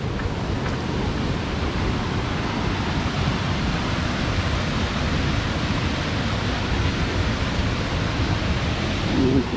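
Steady, dense roar of rushing water from Cachoeira da Porteira waterfall in Presidente Figueiredo, Amazonas, broadband and continuous throughout, with no voices.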